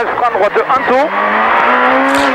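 Rally car at the start of a special stage on the 2009 Rallye Monte-Carlo, Col de Braus to La Bollène-Vésubie: a loud engine revs in rising bursts and then pulls away with a steady high drone, with a voice briefly mixed in early on.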